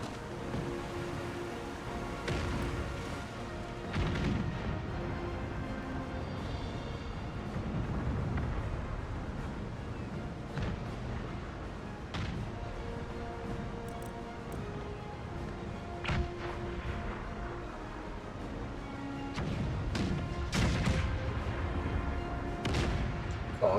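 Gunfire and artillery rumble through an Empire Total War battle with Russian forces, heard as a dense, distant wash of booms and crackling volleys with some sharper shots, continuous and fairly even in loudness.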